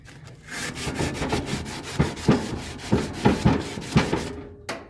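A wad of tin foil scrubs grease off barbecue grill grates coated with coconut oil, producing close, loud rhythmic rasping strokes, about a dozen back-and-forth scrapes with no talking.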